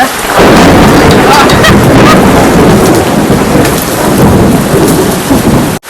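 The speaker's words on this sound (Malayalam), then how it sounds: "നല്ല ഗംഭീര മഴയാണ്." A heavy downpour in Thrissur, Kerala, roars loudly and steadily while deep rumbles of thunder roll underneath, with no one speaking.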